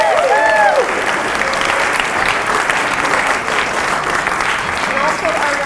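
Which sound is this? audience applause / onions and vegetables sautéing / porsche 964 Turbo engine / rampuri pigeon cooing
audience applause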